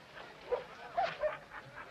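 A dog in a film adaptation of The Call of the Wild gives a few short, faint yips and whimpers in quick succession, quiet and somewhat distant.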